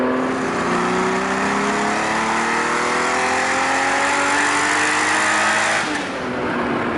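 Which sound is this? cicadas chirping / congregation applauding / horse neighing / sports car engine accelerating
sports car engine accelerating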